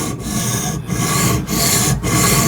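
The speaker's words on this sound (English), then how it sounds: "then you just run your stone back and forth on it" An Atoma diamond whetstone rasps back and forth along a knife blade held in a Tsprof K03 Pro Hunter guided sharpener, four steady grinding strokes with brief pauses at each reversal, close and loud with no talk.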